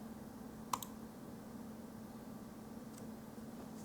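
A single sharp mouse click during a Windows install, with a faint second click just after it, over a steady electrical hum with nothing else going on.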